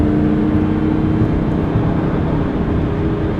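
A Lamborghini drives along with a loud, steady engine drone and rumble close by, no distinct revs standing out.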